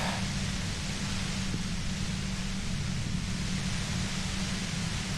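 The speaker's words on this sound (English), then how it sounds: "You hear through the white noise. It's especially bad suddenly." Dense, even white-noise static from the video game Disco Elysium hisses steadily across the full band with no break or voices.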